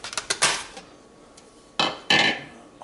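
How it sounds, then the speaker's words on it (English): Dry marinade ingredients for a cilantro marinade being given a short chop in a food processor, heard as a few sharp clattering bursts with pauses between, close and moderately loud, with no talking. "I like to give all my dry ingredients a little chop."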